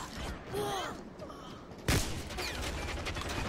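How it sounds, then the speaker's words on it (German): Gunfire from several directions in the shooter Hazard Ops: one sharp close shot stands out from scattered distant bursts, with faint voices underneath. "Von allen Seiten wird hier geschossen."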